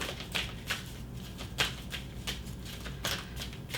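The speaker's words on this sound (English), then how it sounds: "A couple more shuffles and then I'm going to cut." Cards riffle and snap in quick bursts, several short shuffles in a row at close range, fairly quiet with soft room noise between.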